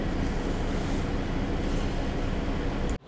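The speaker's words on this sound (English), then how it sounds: "had to put the air conditioning on." Air conditioning unit running indoors on a hot day, a steady, unbroken broadband whoosh filling the room at moderate level, cutting off abruptly near the end.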